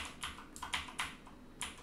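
About half a dozen crisp, close keystrokes tapped on a computer keyboard in an uneven rhythm while entering tmux shortcuts on OpenBSD 7.4, alone and quiet.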